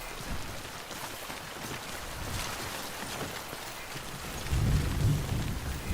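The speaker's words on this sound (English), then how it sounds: "Rain again?" Steady rain hisses over everything in the video game Death Stranding while a low thunder rumble swells near the end, with no voices.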